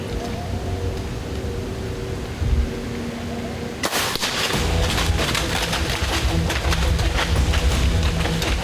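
A single loud rifle shot cracks out while deer hunting in brush, sharp and close, followed by a broad rumbling echo and wind noise outdoors.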